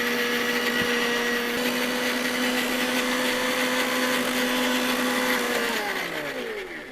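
An electric blender whirs loudly and steadily while grinding ginger and garlic to a paste, then its motor winds down with a falling pitch at the end, close and with no voices.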